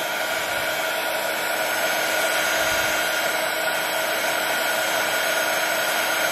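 A heat tool blows a steady, even whoosh with no breaks while melting embossing powder on an enamel plaque. It sounds close and constant, with no talking.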